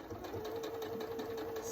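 A sewing machine running continuously at close range, stitching fabric pieces of a four-patch quilt block with a steady rapid whirring hum and no pauses.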